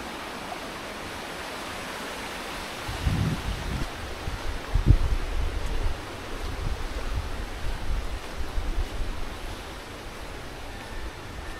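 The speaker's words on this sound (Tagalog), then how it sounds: "Ganda ng ilog rito sa gilid oh." A river flows beside a walking path near Nonok Falls in Real, Quezon, giving a steady broadband rush of water that swells somewhat louder midway, with no talking over it.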